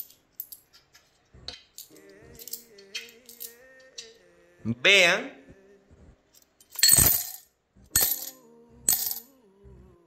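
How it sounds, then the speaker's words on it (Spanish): Five coins dropped one after another into a drinking glass, giving sharp separate clinks and a brief rattle between moments of quiet, with a person speaking a few words nearby. "Dentro del vaso le van a colocar las 5 monedas."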